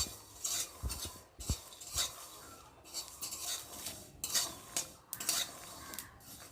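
Vetkul leaf paste frying in a pan: soft, uneven stirring and scraping with a spatula, metal clinks against the pan, and a faint sizzle underneath, fairly quiet and intermittent.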